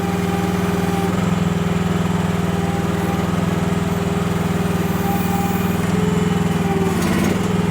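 The diesel engine of a Chinese mini excavator runs steadily nearby, a loud continuous chugging drone that holds even throughout, with no voices.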